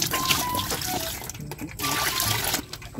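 Steady trickling and splashing of water, close by, as a pig drinks, with faint voices and farm noise underneath.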